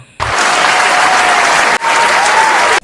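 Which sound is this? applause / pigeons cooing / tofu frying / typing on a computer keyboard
applause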